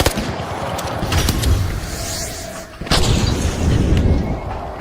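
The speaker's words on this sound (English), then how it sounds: "Frag grenade out! And it wasn't subtle." A frag grenade detonates in the game The Finals amid loud, booming weapon fire: a heavy blast near the start, then a sharp, loud burst just before the three-second mark, followed by continued rumbling gunfire.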